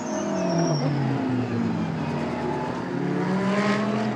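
A Mercedes GT race car at the 24 Hours of Spa roars past, its engine note sweeping down in pitch as it goes by under steady trackside noise.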